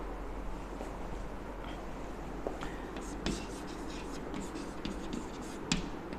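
Marker or chalk scraping across a classroom board during a 7th grade grammar lesson, a series of short scratchy strokes and taps over steady low room noise.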